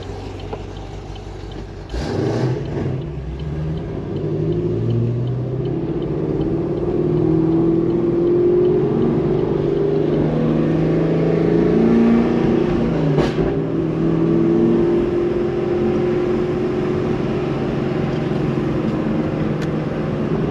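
A Chevrolet Camaro engine starts up loud and close, then revs with rising and falling pitch as the car pulls away, its steady roar holding and drifting off.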